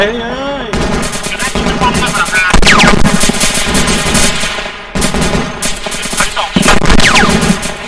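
Rapid automatic gunfire crackles loudly in the military simulation game Arma 3, long bursts broken by short pauses, the shots close and dense over a continuous background.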